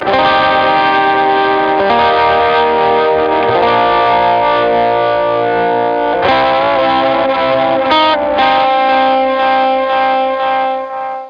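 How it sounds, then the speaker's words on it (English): An electric guitar with a blues drive and delay plays sustained, overdriven notes and chords with a gritty edge, trailed by echoing delay repeats, loud and continuous. "preset number 1 is just some blues drive with some delay"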